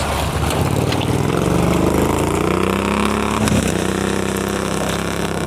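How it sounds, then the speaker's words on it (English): A Duzgo off-road vehicle's engine labours loudly and continuously up a bumpy slope, its pitch rising and straining under load, with a brief bump-like jolt partway through. "the Duzgo is going to have a go at driving up this"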